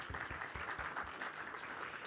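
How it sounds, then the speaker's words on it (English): Convention attendees in a hall applaud the organizers, a soft, steady wash of clapping that stays even and somewhat distant throughout. "Can we give them a round of applause, please?"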